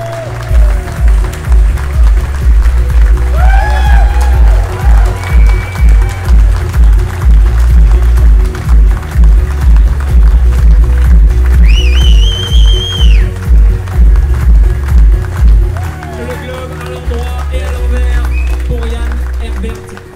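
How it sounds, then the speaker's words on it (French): A large audience at the GGR2022 prize giving gives Ian Herbert Jones sustained applause that settles into loud rhythmic clapping, with faint whistles and crowd voices mixed in. "Applaudissements nourris, s'il vous plaît, pour Ian Herbert Jones."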